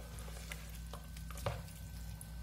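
Gluten-free bread dough of cornmeal, starch and sweet manioc flour stirred by hand in a bowl, soft scraping and sticky squelching strokes, quiet and close, over a steady low hum.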